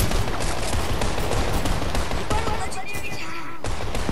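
Fortnite combat shotgun fire in a dense, continuous barrage of gunshots that fills the whole stretch, with other game noise and voices mixed in underneath.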